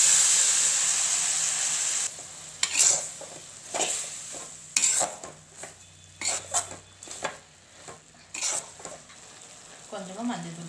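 Cooked cabbage and lentils tipped into a hot tempering pan and stirred, giving a loud sizzle at first that settles into repeated scraping stirs and soft spattering, close up and with no talk.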